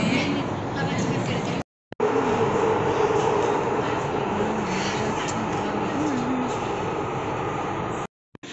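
A metro train at Chandni Chowk station rumbles steadily under station noise for most of the stretch, with brief cutouts near the start and end, while voices talk over it.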